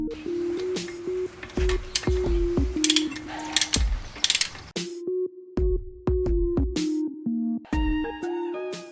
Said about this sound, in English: And we're gonna be doing that with the torque wrench.